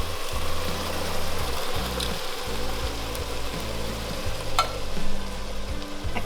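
Browned ground hamburger meat and chopped onion sizzle steadily in a pan, a constant loud frying hiss with occasional stirring scrapes.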